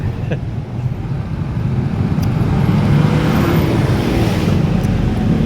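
A car overtakes on a road with a steady, loud engine and tyre roar that swells gradually and then holds, close by and continuous.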